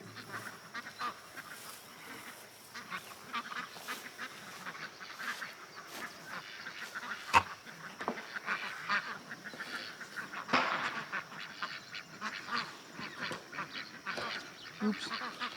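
Ducks being brought in at a rural homestead quack and honk in a busy overlapping chorus, moderately close, with occasional louder squawks and no speech.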